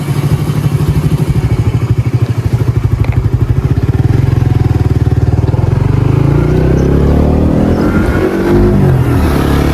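A motorcycle engine chugs loudly nearby with rapid, pulsing firing beats, then revs up and pulls away, its tone rising as it accelerates.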